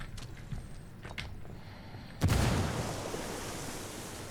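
A frag grenade detonates in Ghost Recon Wildlands, one loud sudden boom after quiet ambience, followed by a long rumbling decay that fades over about two seconds.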